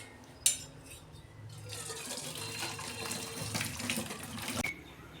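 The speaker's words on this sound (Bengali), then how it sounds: "বাঁধাকপির জলটা আমি ঝেড়ে নেব।" Cooking water poured off boiled cabbage into a sink, a sharp clink of a lid or pot followed by a few seconds of splashing, gushing water close by.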